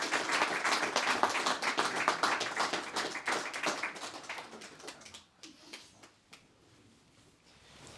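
Applause after a eulogy at a life celebration service, a dense round of clapping from a gathered crowd that holds steady for about five seconds, then thins to a few scattered claps and fades out.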